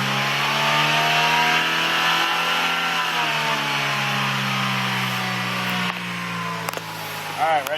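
A 2001 Honda Civic LX engine, just treated with Seafoam, revs loudly and holds a droning pitch that slowly sags and eases off, with voices talking over it near the end.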